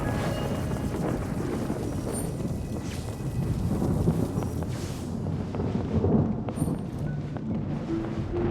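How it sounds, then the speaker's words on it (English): Thunder in a video game, a long rolling rumble with wind-like noise, rising and falling in waves, building toward a heavier crash midway and again near the end. "Thunderclap!"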